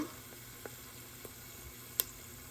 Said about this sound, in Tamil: பிரிஞ்சியில் போட்டு வதங்க விட்டுட்டு நல்லா நெய்யில் வதங்கட்டும்.